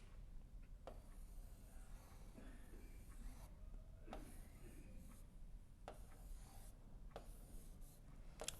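A pen writes on paper in quiet, close scratching strokes. Short taps and lifts break up the faint steady rasp.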